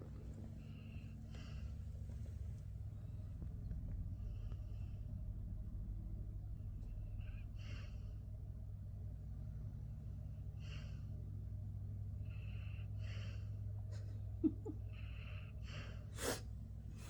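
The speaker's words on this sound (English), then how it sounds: "And snoring." A sleeping animal snores in long, steady rhythmic breaths, each rasping draw repeating every couple of seconds over a low constant rumble, close and fairly quiet with no talking.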